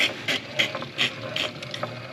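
Dana axle gears on a Ford Super Duty truck, turned by hand, give a run of ratcheting, clicking mechanical sounds in uneven bursts, close and moderately loud, with no one speaking.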